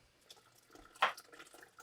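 Heated water poured into a water bath canner holding jars of beans gives a quiet trickle and light splashing, with one brief louder splash in the middle, faint and close.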